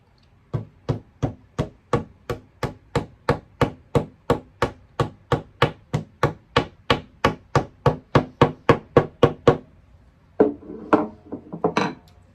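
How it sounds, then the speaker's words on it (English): A hammer taps a wall anchor into drywall: about thirty sharp, evenly spaced knocks in a steady rhythm, close and clear, then a few scattered softer knocks and rustles at the end. "just take a hammer and slightly tap it in"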